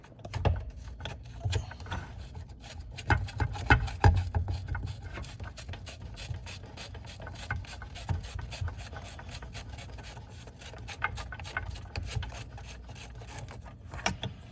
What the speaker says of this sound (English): when you're loosening that plastic bolt on the bottom, that plastic nut, it should come off without this thing spinning in its entirety